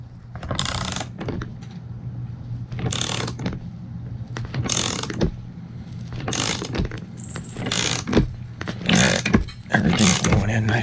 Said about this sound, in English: we just tighten it all down and it seats the bearing in there